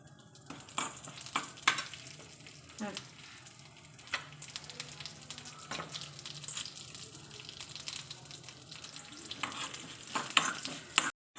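Chana dal and urad dal with cumin frying in a pan of oil, a steady close sizzle broken by stirring scrapes and clinks, with brief faint voice sounds in the background.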